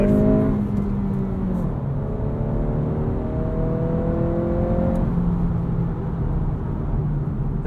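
A 2023 Acura Integra with a 6-speed manual revs hard toward redline, a steady loud engine drone with rising harmonics, a brief dip near the end, heard from inside the cabin with no talking.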